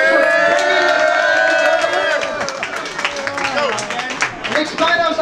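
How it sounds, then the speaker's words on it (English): A crowd at a Bitcoin event in Satoshi Square, New York City, claps and cheers loudly, with whoops and voices rising over the applause, which swells again toward the end. "Let's give a round of applause for Nick Spanos."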